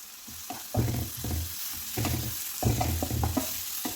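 Curry leaves hit hot oil with bursts of crackling sizzle, several loud spattering pops in quick succession over a steady frying hiss.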